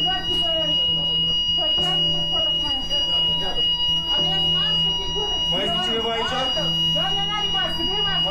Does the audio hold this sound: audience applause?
no